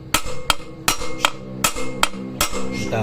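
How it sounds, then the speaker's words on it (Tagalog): Front wheel bearing driven into the hub of a Rusi KRY motorcycle with a hammer, seven sharp metallic blows at an uneven pace, loud and close, with no voices. "Pati sa pagbubukbok, huwag masyado malakas para hindi mabasag yung hub."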